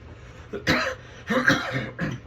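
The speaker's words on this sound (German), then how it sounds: "Entschuldige, ein bisschen husten." A few harsh, close coughs in quick succession, with short pauses between bursts and no speech.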